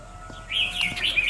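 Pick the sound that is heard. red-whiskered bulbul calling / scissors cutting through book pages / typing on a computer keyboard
red-whiskered bulbul calling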